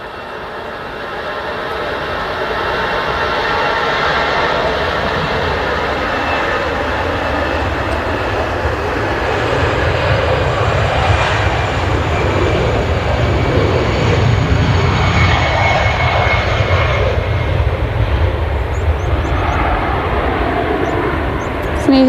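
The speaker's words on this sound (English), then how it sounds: "EasyJet A320 on the way to Dalaman." An EasyJet Airbus A320 jet departs Manchester Airport, its engine roar loud and sustained, building gradually into a broad, steady rumble over about twenty seconds, heard from a nearby outdoor viewing spot with faint wind.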